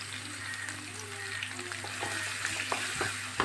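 Long-sliced onion sizzles steadily in a pan, a continuous close frying hiss with a few light scrapes and clicks of stirring, no talk, for an egg stew.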